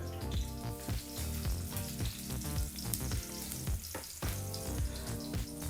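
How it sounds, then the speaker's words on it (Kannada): Garlic, cumin and asafoetida fry on a low flame with a soft sizzle, and a stirring utensil clinks now and then over steady background noise with tonal hum. "ಬೆಳ್ಳುಳ್ಳಿ ಮತ್ತು ಜೀರಿಗೆನ ಒಂದು ನಿಮಿಷ ಫ್ರೈ ಮಾಡಾಯಿತು ಲೋ ಫ್ಲೇಮ್ನಲ್ಲೇ ಫ್ರೈ ಮಾಡ್ಕೊಳ್ತಾ ಇರ್ತಕ್ಕಂಥದ್ದು"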